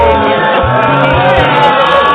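A large, loud crowd at a birthday gathering near a market, with shouting and whooping voices blending into a continuous roar throughout.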